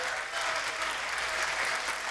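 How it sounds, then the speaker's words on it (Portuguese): Arena crowd at a televised MMA fight event applauding steadily, a dense wash of clapping that holds at an even level throughout with no voices standing out. "E sendo aplaudido pela galera presente aqui na nossa arena, a arena do Contender."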